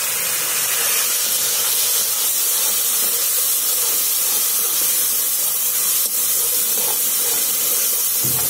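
Tomatoes tipped into onions frying in a pan for Punjabi kadhi pakora in a village kitchen, a loud continuous close sizzle and hiss holding steady throughout with no talking.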